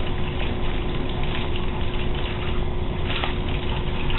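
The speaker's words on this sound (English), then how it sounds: "After you've washed your hands with warm water for 20 seconds" Warm water pours steadily from a tap over washing hands, a loud, dense, continuous gush close by with no talking.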